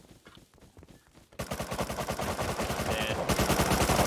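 Rapid automatic gunfire rattles in Rust, starting as scattered shots, then breaking into a loud, sustained burst of closely spaced rounds; one voice speaks briefly near the start.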